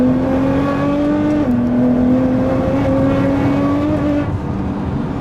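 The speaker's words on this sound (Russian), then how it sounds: "И лучше слышно выхлоп." Nissan GT-R with 735 hp heard from inside the cabin while driving, a loud, steady exhaust drone with a sustained engine tone that shifts pitch slightly as the revs change, with no talk over it.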